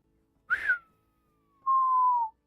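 A person whistles two notes: a short rising chirp that slides into a faint sustained tone, then a brief pause and a longer, steady, slightly falling note, clear and close with no talking.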